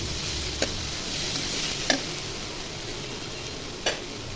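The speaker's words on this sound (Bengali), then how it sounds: "আদা বাটা দিয়ে ভালো করে ভেজে নিব।" Ginger and garlic paste frying in oil with fried onions, a continuous moderate sizzle broken by three sharp scrapes of a spatula against the pan at spaced intervals.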